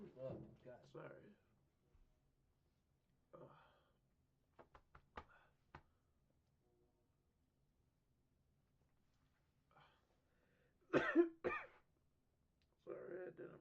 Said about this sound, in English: I tried coughing into my hand.